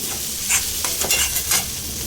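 Masala sautéed with a pinch of salt in a pan for achinga payar (long bean) stir-fry, with a spatula scraping and stirring in repeated strokes over a constant close sizzle, no talking.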